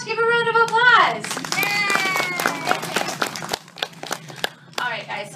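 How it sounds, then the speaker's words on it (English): Children and an audience clap and cheer at a Turtle Talk with Crush show, scattered hand claps rising under excited young voices and chatter, with a brief drop before clapping picks up again. "Give a round of applause!"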